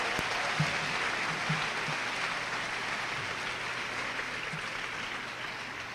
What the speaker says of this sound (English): Let's give the 2019 class of Seawolves a big round of applause